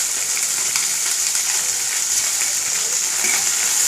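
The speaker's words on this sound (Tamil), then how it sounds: "இதை போட்டு நல்லா வதக்கிடணும்" Onion, ginger, curry leaves and green chili sauté in hot oil for a millet upma, giving a steady, close, continuous sizzle that holds even throughout with no talking.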